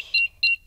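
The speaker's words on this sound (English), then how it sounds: "Switch the alarm back on." Two short electronic beeps from a house alarm keypad as the alarm is switched back on, evenly spaced, clear and close, with no talk over them.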